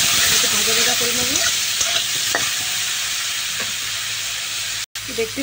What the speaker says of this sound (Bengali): একটু ভাজা ভাজা করে নেব।